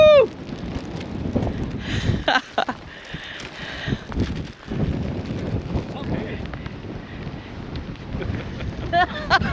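A stiff coastal wind near the Carrick-a-Rede rope bridge, roaring and buffeting the microphone in loud, uneven gusts, with faint voices now and then.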